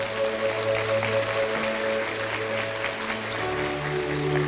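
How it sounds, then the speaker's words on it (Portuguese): A church congregation applauds during a preached service, with continuous clapping over sustained music or organ tones and some murmuring voices in the room. "pode aplaudir mesmo"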